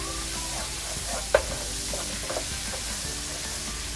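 Garlic butter sauce for crabs sizzles steadily in a pan while being stirred, with a low constant frying hiss and a sharp utensil tap near the start, close and alone.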